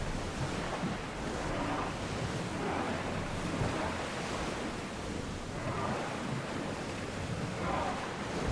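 A ship under oar on the open sea in Assassin's Creed Odyssey, with a steady wash of waves and wind rushing around the hull, constant and moderately loud with gentle surges.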